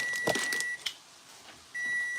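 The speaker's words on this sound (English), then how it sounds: "timer's about to go off" A kitchen timer goes off while tacos are being cooked, electronic beeping in two sustained bursts at the start and end, with a few soft kitchen knocks in the quiet gap between.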